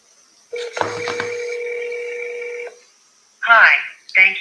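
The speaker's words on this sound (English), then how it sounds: "Let's call him on the cell phone." A cell phone places a call: a couple of seconds of loud electronic dialing and ringing tones, then a pause before a recorded voice answers.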